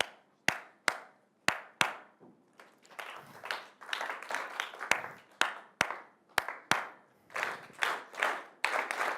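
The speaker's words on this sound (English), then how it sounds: "I'm doing now a clap rhythm. And please copy that clap rhythm." A presenter's sharp claps set a rhythm and a conference audience copies it with a looser burst of group clapping, the call and response alternating several times.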